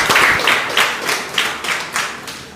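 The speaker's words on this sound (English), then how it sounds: "I'll give a big round of applause" An audience claps at a World Mental Health Day forum in Carriacou, in a brief burst of close, evenly spaced claps that keep a steady beat for a couple of seconds, with no talking.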